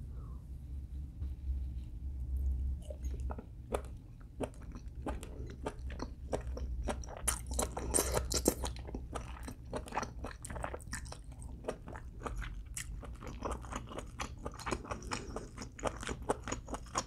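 Octopus dipped in very spicy Chinsu sauce being chewed up close, with repeated soft, wet bites and crunchy, squishy mastication sounds coming in a steady, irregular rhythm, with no talking.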